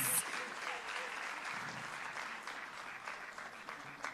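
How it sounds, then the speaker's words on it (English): An audience at an agriculture recognition awards ceremony claps in sustained applause, a dense steady patter with a faint voice mixed in. "Can we give them a round of applause,"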